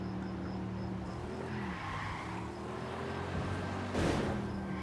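A car skids with squealing tires during a drive in Ghost Recon Wildlands, engine humming steadily before a sudden bright burst of impact noise near the end, moderately loud with no voices.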